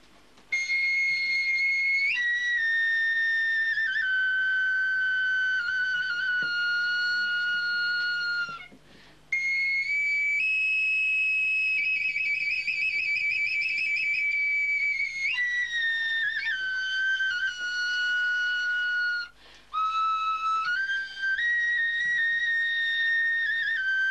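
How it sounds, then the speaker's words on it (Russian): A Ukrainian sopilka, a wooden folk flute bought in Chernihiv, plays a clear, bright melody of held and gliding notes, solo and close, with a couple of short breath pauses between phrases. "Это украинский национальный инструмент. Называется он сопилка."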